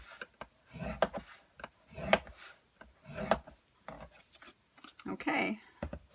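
A scoring tool drags across a paper lid for a jelly jar candy holder in a series of short, close scraping strokes with small pauses between them, a little louder toward the end.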